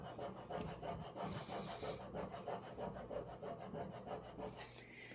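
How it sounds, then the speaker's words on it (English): A scraper rubs repeatedly across vinyl on a Christmas ornament, giving a quiet, rhythmic series of close, papery strokes with no voices. "we're going to go ahead and grab our scraper and we're going to scrape it on"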